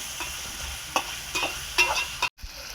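Dried fish and onions fry in a pan with a steady sizzle, punctuated by a few scraping stirs before a brief cut near the end.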